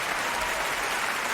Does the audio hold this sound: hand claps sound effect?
yes